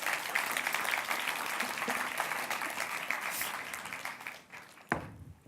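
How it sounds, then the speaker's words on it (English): An audience at the European Youth Award Gala 2014 gives a sustained round of applause, dense clapping that gradually fades out, ending with one sharp knock. "Big round of applause, please."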